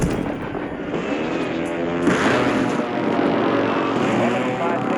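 Heavy rumbling airstrike explosions in the military video game Supreme Resurgence, a dense, continuous roar of blasts and engine-like noise that swells sharply about two seconds in and stays loud.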